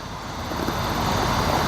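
An MJX H12P brushless RC car crawls at slow speed toward an obstacle, giving a steady, close whirring motor hum with broad noise and no talk.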